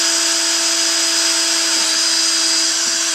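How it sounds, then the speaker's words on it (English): A power drill with a quarter-inch bit drills pilot holes in a Jeep JK stock bumper, whining at a steady high pitch, close and loud, running continuously, then cutting off right at the end. "use these as pilot holes and drill it out"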